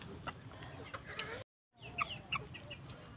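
A chicken clucks in short bursts close by, over a low background hum, then falls briefly silent before more quick clucks follow.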